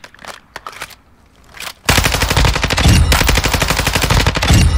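Rapid, continuous bursts from a mounted machine gun in Call of Duty fire loud and close after a couple of seconds of quieter, scattered clicks and handling noises.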